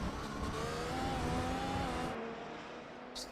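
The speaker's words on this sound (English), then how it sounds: "Listen to the sound of that V6 turbo hybrid engine" Engine of an F1 car with a V6 turbo hybrid in a racing video game, a loud high revving whine with rising harmonic tones that holds, then drops away near the end, no voices.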